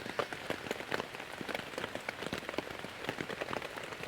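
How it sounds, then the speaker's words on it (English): Heavy rain falling at night on a camping spot in a UK forest, a dense, continuous patter of close drops striking a surface, with sharp individual hits scattered through a steady hiss and no voices. "the rain is still coming down quite hard"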